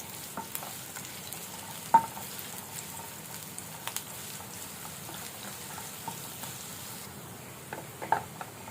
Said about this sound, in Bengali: পেঁয়াজটা আমার ভাজা হয়ে গেছে।